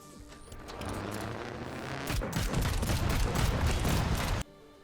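Dense, sustained barrage of booming cannon fire from hidden cannons on a car in the game Trailmakers, rumbling and crackling continuously for about four seconds before cutting off abruptly.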